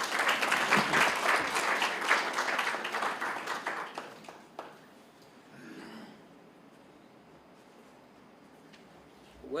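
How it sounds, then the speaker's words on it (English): A corporate audience gives a speaker a round of applause, loud dense clapping that thins out and fades over several seconds, leaving a quiet room with a few soft sounds and light noise. "let's give him a round of applause."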